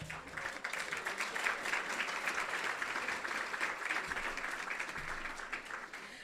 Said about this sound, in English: A special round of applause, please,